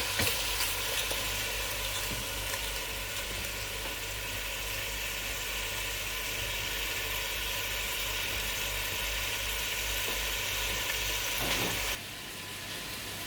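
Lamb pieces browning for korma in a hot pan, giving a steady, loud, close sizzle with faint stirring scrapes that runs unbroken and then drops away sharply near the end.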